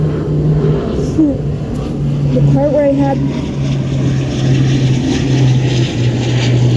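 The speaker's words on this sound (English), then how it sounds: "there's a stupid airplane" A propeller airplane drones overhead as a steady low hum under continuous close talking, holding at the same level for the whole stretch.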